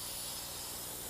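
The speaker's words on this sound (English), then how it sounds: "so spray painting is really easy" Spray paint hissing steadily from an aerosol can during a DIY project, a continuous close airy rush with no talk.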